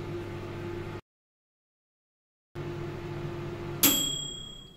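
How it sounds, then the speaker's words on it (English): A Toshiba MW2-MM24PF microwave oven hums steadily, cuts out briefly, hums again, then gives one loud, bright bell ding as it finishes, the ring fading out slowly. "So that was a very loud bell, which is very good"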